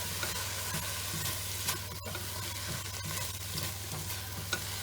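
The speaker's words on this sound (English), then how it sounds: "Now I'm adding my noodles back in. I'm going to toss it around." Noodles with tomato and parsley are stirred and tossed in a hot pan, a steady sizzle with soft rhythmic scraping, close and alone without talk.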